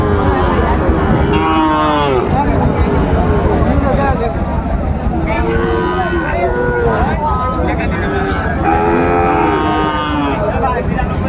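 Sahiwal bull calves moo repeatedly at a busy cattle market, loud and close, with long drawn-out calls over dense crowd noise and people talking throughout.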